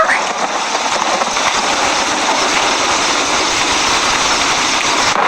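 Loud, unbroken roar of heavy rain pouring down, constant and dense with no pauses.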